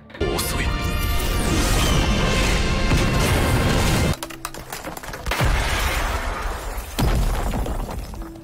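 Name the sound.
monster shattering into ice shards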